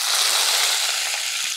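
Urad dal and onion fry in a pan of hot oil, producing a loud, dense, continuous sizzle close by with no talk.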